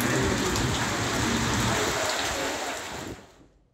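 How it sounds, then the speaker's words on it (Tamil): Heavy night rain pours down steadily in Chennai, a dense close hiss of drops on surfaces that fades out at the end. "இரவு நேரத்தில் நல்ல மழை பெய்தது"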